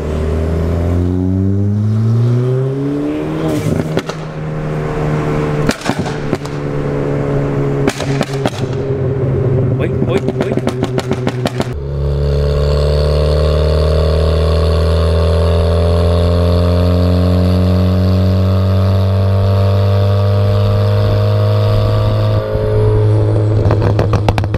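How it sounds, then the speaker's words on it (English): Loud Ford Fiesta ST engine revving in sharp repeated throttle punches, pitch sweeping up and falling back with crackling pops, then holding a long sustained high-rev drone; close and dominant, with no talking. "let's do a couple of throttles"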